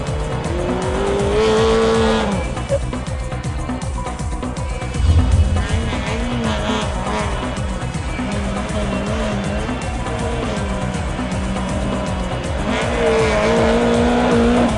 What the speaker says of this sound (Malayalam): ഒരേ ട്രാക്കിൽ തന്നെ പല തരത്തിലാണ് വാഹനങ്ങൾ കയറിപ്പോകുന്നത്.